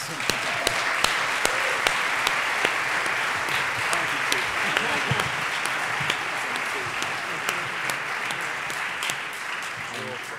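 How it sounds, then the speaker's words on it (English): Audience applause at a policy summit panel on the digital revolution, a steady wash of many hands clapping that holds evenly for about ten seconds, moderately loud and close, with some talk faintly underneath. "let's give everyone a round of applause"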